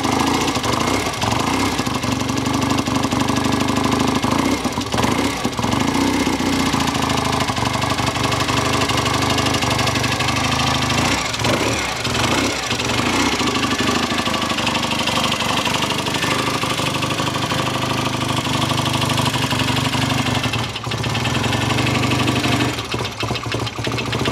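A classic BSA motorcycle engine idles in a workshop with a deep, steady, throbbing beat that stays close and loud throughout the long stretch, with slight fluctuations in pace and no talking.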